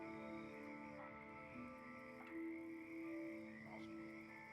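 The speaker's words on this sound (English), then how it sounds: "you just hear the croaking of the frogs and the chirping of the birds below in the swamp." Frogs croak in a swamp at night in a steady, faint chorus, their layered calls repeating over a soft ambient background with no voices.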